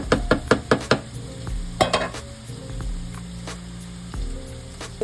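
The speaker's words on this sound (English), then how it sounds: "We're going to turn the greens on high heat and let it cook." Greens cooking over high heat in a pot on a home stove, a low steady sizzle broken by a quick run of sharp metal clanks and scrapes from stirring, close and without talk.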